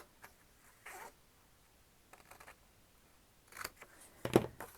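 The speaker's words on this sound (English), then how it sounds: "we're gonna cut it in half" Scissors cut journal cover material in half, giving a few quiet, brief snips and rustles spaced apart, with a louder crisp cut at the end.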